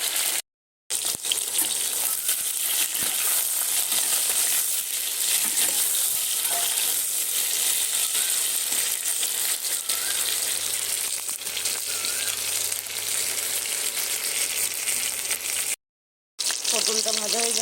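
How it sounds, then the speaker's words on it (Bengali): Pointed gourd, potol, fries in hot oil with a loud, dense sizzle and crackle lasting throughout, broken by two brief silent gaps, with a low hum joining partway through. "পটলটা ভাজা হয়ে গেছে লাল করে"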